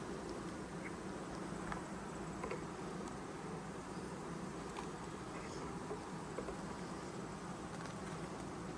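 Honeybees drone in a soft, continuous buzz around an open hive, No. 7, during an August inspection, faint and steady throughout.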